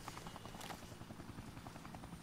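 A steady, rhythmic chop of a helicopter rotor from Dead Rising thrums throughout, even and continuous, fairly quiet and unbroken by talk.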